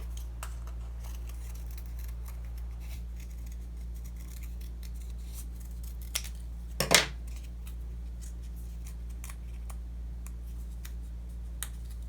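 A single quick snip of scissors cutting through folded paper, close and crisp, set against a steady low hum with otherwise quiet surroundings.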